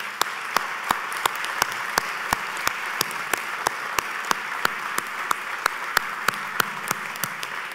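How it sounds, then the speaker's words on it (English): Audience applause at a Georgetown University EMBA graduation ceremony, honoring faculty: steady crowd clapping with sharp individual claps standing out over a dense wash, sustained at even loudness throughout. "I think they deserve a round of applause."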